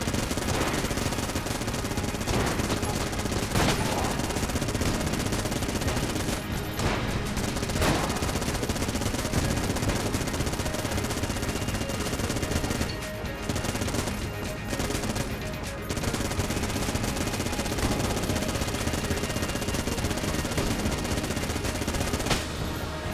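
Rapid continuous gunfire from a powerful weapon used against a boss in the video game Enter the Gungeon, dense and loud throughout with brief gaps, layered with game effects and no talking.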